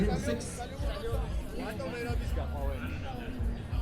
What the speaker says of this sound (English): If we go through the crowd, apologies for the noise.